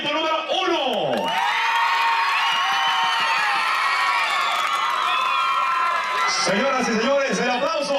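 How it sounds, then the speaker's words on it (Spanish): Audience at a ranch prize-giving event cheers, whoops and shouts loudly for the first team, a dense continuous crowd roar with high voices rising over it. "aplauso, equipo número 1."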